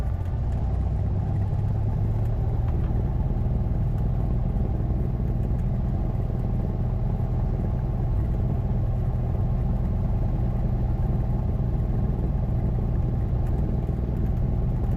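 Steady, continuous engine drone and low rumble inside a small airplane, model FTHVN 1150, taxiing to the ramp after landing, loud and even for the whole stretch with no talk.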